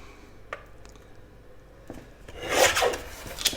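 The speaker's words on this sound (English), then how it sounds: "I'm going to cut it with my trimmer, because if I don't, it will be really crooked." A paper trimmer slices through a book page, a short rasping cut that builds near the end after a few quiet clicks and rubs of positioning the sheet, close and moderately loud with no talking.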